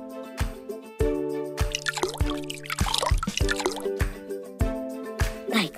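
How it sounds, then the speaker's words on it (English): Oil and water poured into bowl of dough ingredients while making Lu'sknikn, heard as a series of close drips, plops and wet splashes with a brief busy pouring stretch in the middle, clear and unaccompanied by talk. "Now, we're going to add our wet ingredients, oil and water."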